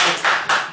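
Brief bursts of clapping from a few people in a school radio studio, three short rounds of hand claps in under a second, close and fairly loud.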